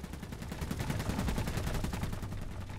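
Cannon fire in the Iron Harvest real-time strategy game: a rapid, continuous string of booming shots with no pause, loud and close, heard alone without speech.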